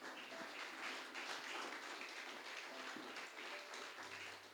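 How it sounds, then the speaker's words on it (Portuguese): Applause from a church congregation, a steady, moderately faint wash of many hands clapping that holds for several seconds with no speech over it. "Aplaude Jesus."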